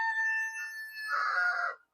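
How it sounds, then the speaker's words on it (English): A rooster at a backyard chicken coop crows once, a clear, fairly loud call of about two seconds that rises into a harsher final stretch before cutting off, heard alone. "if you can hear the rooster"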